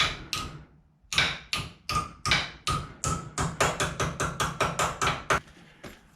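Sharp hammer blows bending a metal tab on a 1976 Raleigh Cougar MX500 bicycle, about eighteen ringing strikes that start spaced apart and then come in a quicker, steady rhythm.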